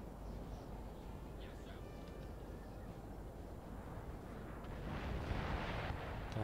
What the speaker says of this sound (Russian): Так, мои пушки открыли огонь.